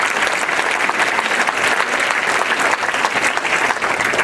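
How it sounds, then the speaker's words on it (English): A rally crowd against a casino in Milford claps loudly and continuously, a dense, even roar of many hands close by with no pauses. "You should applaud yourself right now."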